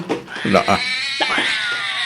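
A cat meows amid a noisy domestic comedy scene, its cries mixed with people talking and shouting close by over a steady background hiss.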